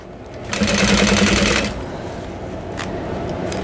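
Sewing machine stitching a Howie bowler bag, a fast steady whir of needle strokes that swells for about a second near the start, then settles into a softer running hum.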